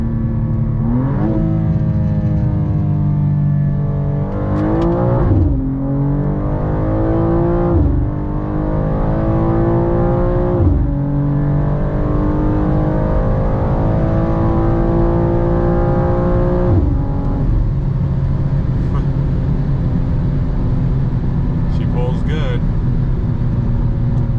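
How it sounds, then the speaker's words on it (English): A 2024 BMW M2 G87 downshifting and accelerating hard, its engine note loud and close, climbing through revs with sharp shift changes, while a voice talks over it throughout. "I'm just gonna downshift to the right gear and then hit it."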